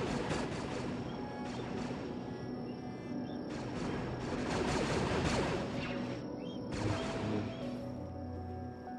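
Blaster fire and impacts clash in Kenshi with a Star Wars mod during an assault on a rebel base, layered crashes and shots over a dense, continuous battle din.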